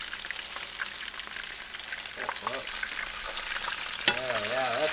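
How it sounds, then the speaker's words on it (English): A squirrel fries in hot oil, sizzling and crackling in a continuous spitting fry with occasional louder pops and stirring. "Frying him up like chicken."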